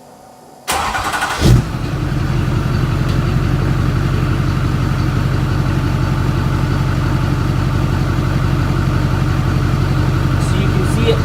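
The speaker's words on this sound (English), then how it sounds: "So now we're gonna go start the truck." A pickup truck's engine cranks and catches after a fuel pump has been whirring, then settles into a loud, steady idle that runs to the end, heard up close.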